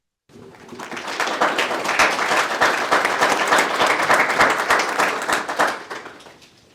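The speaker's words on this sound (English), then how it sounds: "I don't deserve that loud, big of applause" A panel audience at a genocide awareness event bursts into loud applause for a human rights activist, rising abruptly from silence into vigorous, crisp clapping with distinct sharp claps, then tapering away near the end.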